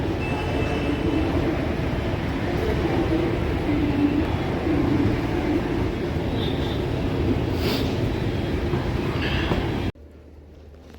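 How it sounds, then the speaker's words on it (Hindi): Ambience at New Delhi railway station with a train present: a continuous loud rumble and rattle with faint high squeaks, no talk, cutting off abruptly near the end. "और मैं पहुंच चुका हूं नई दिल्ली रेलवे स्टेशन।"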